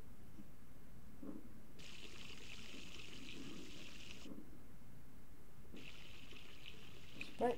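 Water spraying from a broken shower in The Sims 4, a steady hissing stream that starts and stops in two long bursts against a quiet room background.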